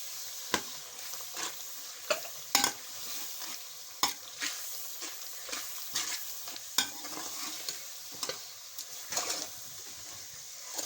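Salt, turmeric, red chilli powder and tomato stir-fried in a pan for an aloo gobi, a quiet sizzle broken by sharp spatula scrapes and clacks at irregular intervals, with no one talking.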